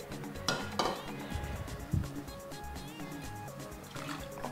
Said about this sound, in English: I'll just use some of this water to rinse the remaining bulgur off here.